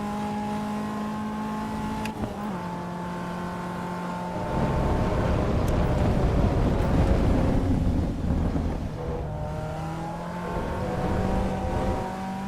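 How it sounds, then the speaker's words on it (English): Caterham race car engine droning with clear harmonic tones on the Spielberg track, joined midway by loud broadband rumble and wind buffeting that swells over the engine before easing, steady and close throughout. "I can hardly hear the engine over the rumble noises."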